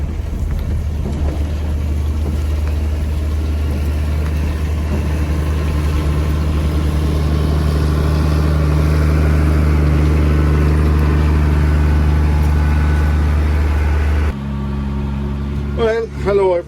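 A Case CS150 tractor pulling a rake hums with a steady, fairly loud engine drone throughout, then the engine note drops near the end as faint chirps come in.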